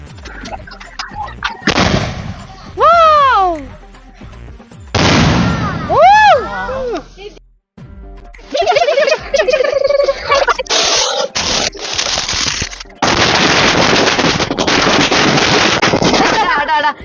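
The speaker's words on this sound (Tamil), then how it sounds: "இன்னும் அருமையா வெடிக்குது பட்டாசு எல்லாம்" Firecrackers bursting outdoors, with sharp loud pops and crackling bursts in several separate volleys, some whistling rising tones between them, and voices talking in the background.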